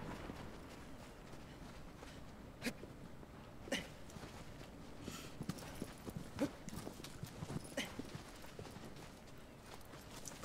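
In Shadow of the Colossus, a horse's hooves clip-clop in a steady rhythm at moderate volume, with occasional louder hoof strikes over quiet game ambience and no voices.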